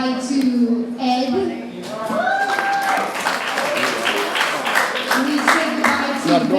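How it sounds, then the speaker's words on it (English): Audience at a poetry slam competition claps as contestants are eliminated, with broadband applause running through the whole moment under ongoing voices and a host talking. "So everyone clap it up as we say goodbye to Ed."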